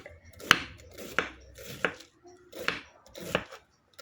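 A knife chops through cabbage on a board in five distinct strokes, each crisp cut spaced about a second apart, close by with no talking.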